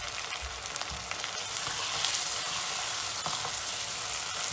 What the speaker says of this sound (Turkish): Salçamız iyice kavruldu.